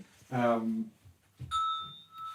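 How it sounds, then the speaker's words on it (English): A voice speaks briefly, then a small bell rings once with a clear sustained ring that fades under more talking. "So this is my little bell."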